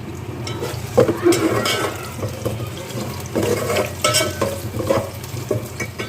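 Sliced onions frying in oil toward golden brown for Afghani Kabuli mutton pulao, a steady close sizzle with occasional stirring scrapes and bursts running throughout.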